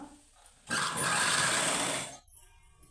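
A sewing machine stitching cloth in one steady, fast whirring burst of about a second and a half, close and fairly loud, starting and stopping abruptly.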